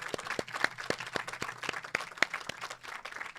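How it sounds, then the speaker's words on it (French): A small audience at a podcast recording applauds the guests, a sparse, fairly quiet patter of distinct claps in an uneven rhythm, with no talk. "Est-ce qu'on peut applaudir juste pour les invités?"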